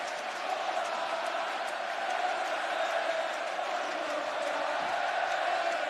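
A big stadium crowd at a Barcelona vs Real Madrid football match, with Barcelona leading on the way to a 5-0 win in 2010, keeps up a continuous, fairly distant roar of massed voices that sounds like steady chanting.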